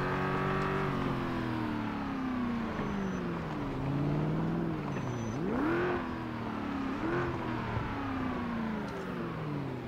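BMW car engine in Project Zomboid, droning steadily throughout as the revs rise and fall with gear changes and throttle, loud and close with no talking.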